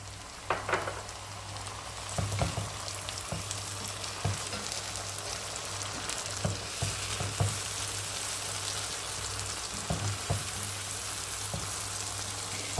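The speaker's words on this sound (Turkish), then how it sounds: "Salçanın da kokusu çıkana kadar kavuruyorum." Tomato paste sizzles steadily in a hot frying pan, a dense crackling hiss with occasional scraping stirs, close up and without any talking.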